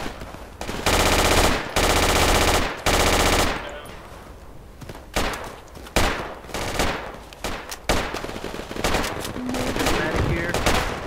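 Sustained suppressive gunfire in the military shooter Project Reality, with long loud automatic bursts at the start followed by shorter, sharper volleys and single shots in an irregular rhythm, close and dominant.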